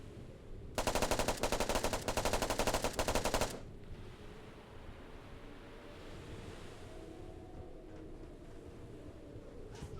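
Rapid automatic gunfire bursts loudly for about three seconds in the SOCOM-style tactical shooter game Task Force, then cuts off, leaving a low ambient wind-like rumble.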